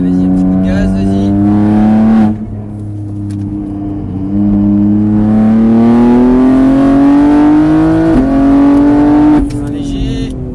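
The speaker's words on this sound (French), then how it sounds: "Allez, vas-y, un petit coup de gaz, vas-y." A car engine revs hard on a race track at Mireval, loud and close, its pitch climbing under throttle then dropping sharply at each shift or lift before rising again.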